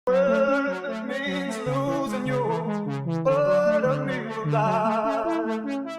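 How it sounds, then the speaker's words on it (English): Rapid arpeggiated synth notes cycle through chords in a quick, steady rhythmic pattern, bright and continuous with no voices. "I'm just going to add this arpeggiator because that's actually what I did for the beat."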